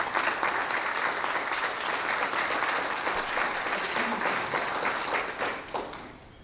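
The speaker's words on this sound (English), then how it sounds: "please let's give all of them a round of applause" Dense applause from an audience at a town business appreciation breakfast, a steady wash of many hands clapping that holds for several seconds before easing off at the end.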